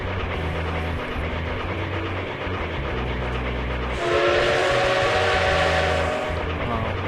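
Train in the video game A Hat in Time rumbles along steadily, loud and close, with a brighter, harsher rush of rolling noise and a sustained whistle-like tone joining about halfway through.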